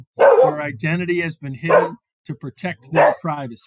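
A dog barks and yips a few times close by, overlapping with a person speaking steadily throughout.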